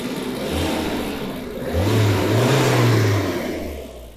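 A BMW E30 M3 engine revs in low, smooth surges, climbing and holding before easing back, up close with no talking.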